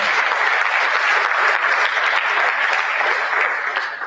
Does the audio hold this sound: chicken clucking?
no